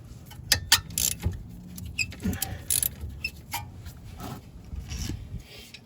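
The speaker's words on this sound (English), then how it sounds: "we're going to start with our 12 millimeter socket and ratchet, and we're going to take off the 2 bolts that hold the caliper to the caliper carrier" A 12 mm socket and ratchet work on the brake caliper bolts of a Honda Fit, making quiet, intermittent clicks, scrapes and metallic rasps.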